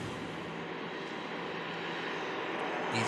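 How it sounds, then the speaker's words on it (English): Eurowings airliner climbing out after takeoff in thick fog at Manchester Airport, a steady broadband engine roar at moderate distance holding even throughout, slightly louder at the very end. "Eurowings climbs out"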